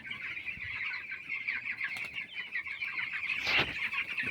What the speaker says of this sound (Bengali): কত সুন্দরভাবে মুরগিরা হাঁটছে